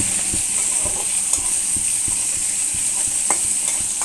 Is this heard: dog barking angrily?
no